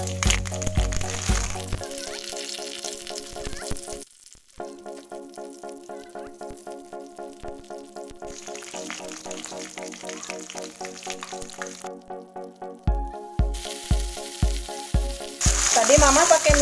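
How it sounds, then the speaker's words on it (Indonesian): Spice paste sautéing in four tablespoons of oil for a spicy sweet-and-sour chicken liver and gizzard dish, a steady sizzle running under background music with rhythmic beats. "sekarang kita tumis bumbunya."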